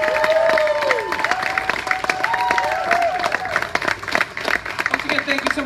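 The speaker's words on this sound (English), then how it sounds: "How about another round of applause for these kids?" Audience applauding a Catholic school chamber ensemble after a Disney Performing Arts performance, a dense wash of clapping mixed with voices and lingering sustained tones, fairly loud and continuous.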